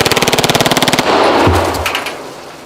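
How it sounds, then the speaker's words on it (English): Rapid burst of game-style Glock 18 automatic pistol fire, about twenty evenly spaced loud shots in a second, then a sustained noisy crash and decaying rumble. "I shoot them with my Glock 18."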